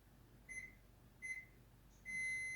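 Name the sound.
kitchen oven timer going off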